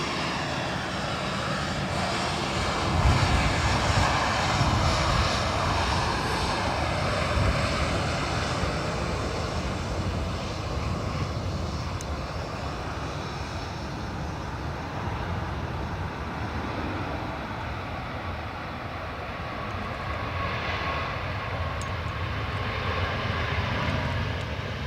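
Airplane engines at Dublin Airport roar steadily from a moderate distance, a broad continuous jet rumble swelling and easing slightly throughout with no talking.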